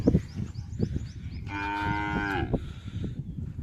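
Cattle on a farm moo at feeding time, with one drawn-out, tonal moo about a second long, fairly close, over faint farmyard background noise.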